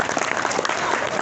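A congregation at a religious sermon in Bekasi claps in a brief, loud flurry of many hands close by.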